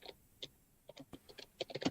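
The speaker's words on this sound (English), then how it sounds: "I can hear Giz aggressively typing" Aggressive typing on a computer keyboard, with quick irregular bursts of faint clicking keystrokes, close by and without talk over them.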